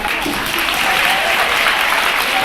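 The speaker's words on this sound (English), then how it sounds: "stand up and give yourself a round of applause" A high school audience at a keynote address bursts into applause, a dense continuous wash of clapping filling the hall at steady volume throughout.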